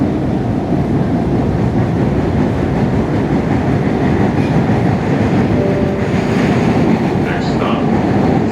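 A Boston MBTA subway train on the Alewife-bound line runs loudly between Kendall/MIT and Central, with a constant heavy rumble and roar of wheels on track and faint squeals and rattles rising near the end.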